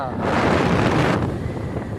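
Wind blowing outdoors around a house and garden estate, a loud, steady rushing roar buffeting the microphone for the whole two seconds with no break.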